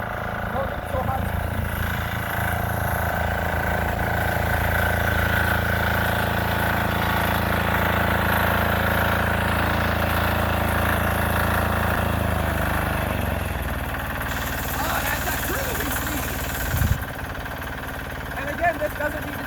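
A 6HP diesel engine on a Sears Suburban garden tractor idles steadily and loud, then its throttle drops to a lower, softer idle partway through, with a voice speaking over it.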